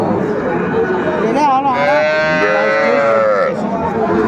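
Young bull calves moo loudly and close at a crowded cattle market, one long drawn-out bellow rising over steady crowd chatter and bargaining voices throughout.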